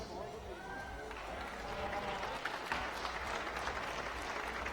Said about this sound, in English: a round of applause from the crowd there for her